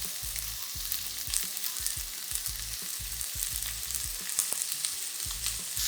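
Ackee and saltfish sautéing in a pan with garlic and Scotch bonnet pepper, a continuous close hissing sizzle under a rhythmic series of low knocks from stirring, with no talk.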